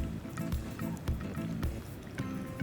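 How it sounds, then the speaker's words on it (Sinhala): Water poured into rice flour for kurakkan kenda, a soft liquid splashing and dripping in short bursts close by over a low steady background. "ඊළඟට අපි හාල් පිටි එකටත් මේ වගේම වතුර එකතු කරගන්නවා."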